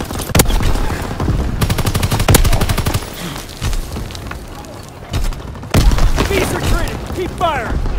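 Rapid machine-gun bursts and single shots in the video game Griffin Defense, loud and close, with heavy booms and crackling fire in uneven volleys, while voices call out over the battle.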